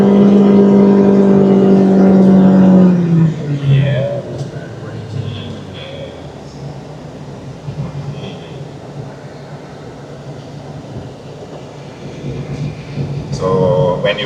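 From inside a Proton Saga 1.5 iGT driven in sport mode, the engine drones loudly for a few seconds, then eases into a low road hum before building again at the end.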